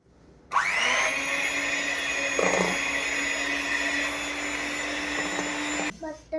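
Mixer grinder powdering ingredients for a homemade cake, starting abruptly with a loud, steady high-pitched whine that holds for several seconds, then cutting off with a brief rattle as it winds down.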